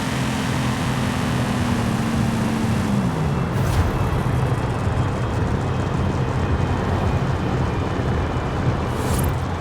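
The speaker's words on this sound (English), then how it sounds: "there's like some noise, like a wind noise" A strange wind noise near a tree in Forza Horizon 5, heard around a 2015 Corvette Z06 as a steady broadband whoosh with a low engine-like drone that fades, continuous and fairly loud.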